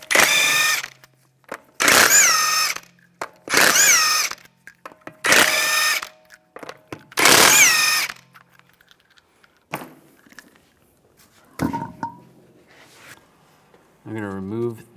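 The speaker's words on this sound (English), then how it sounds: "Take the lug nuts off." A power tool with a 19 mm socket spins lug nuts off the wheel of a 2011–2015 Chevrolet Cruze. Five loud, evenly spaced whirring bursts of about a second each come close up, then quieter clinks and clatter follow.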